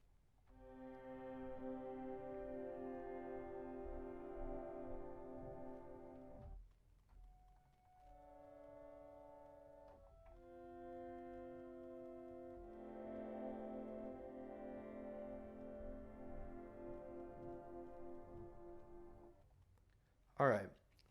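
Sympathetic resonance preparation with a long, slow attack, harmonic drones swelling in gradually and fading, with a brief pause midway and a short sharp burst at the very end.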